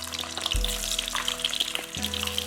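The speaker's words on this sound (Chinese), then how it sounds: "锅内倒油，油不需要太多，把鸡蛋放入锅内煎制" Eggs, boiled, peeled and scored, frying in a small amount of oil in a pan, giving a steady close sizzle with a soft thump as they go in, no talk.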